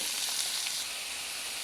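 Ivy gourd pieces drop into hot tempering oil and fry with a soft, continuous sizzle that stays fairly quiet and even, easing slightly in the second half.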